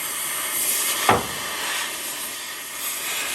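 A cutting torch slices through 1.5-inch steel on a deck-over trailer, giving a steady, close roaring hiss with one brief sharp pop near the start.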